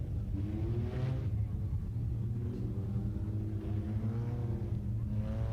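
USRA tuner race cars at Tulsa Speedway rumble steadily through the whole stretch, engines droning and revving at a fairly even level with no talk over them.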